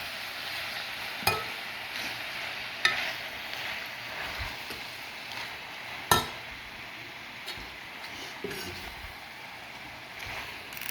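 Spinach for palak paneer stirred in a hot pan, with a soft steady sizzle broken by several sharp spoon clinks against the pan, fairly close and moderately quiet.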